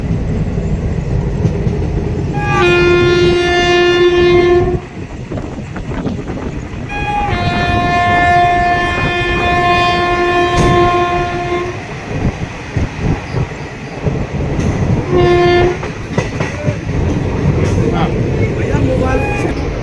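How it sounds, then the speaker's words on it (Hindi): Ranikhet Express running at speed just out of Delhi Cantt, a steady loud rail rumble with wheel clatter, interrupted by three blasts of the train horn, the second long and sustained. "अभी हमारी ट्रेन दिल्ली कैंट को डिपार्ट कर चुकी है और काफ़ी स्पीड पकड़ी है हमारी ट्रेन"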